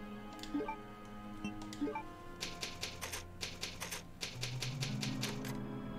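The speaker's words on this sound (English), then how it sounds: "the typewriter, maybe." A save-point typewriter in the video game Resident Evil Code: Veronica X clacks in rapid, uneven bursts of key strikes, close and clear over a low, steady in-game background hum.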